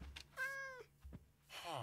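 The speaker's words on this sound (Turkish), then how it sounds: "bak bu kedi gene girmiş içeri" A cat in the Minecraft video game meows quietly, a couple of short calls with a drawn-out middle meow, heard alone over low background noise.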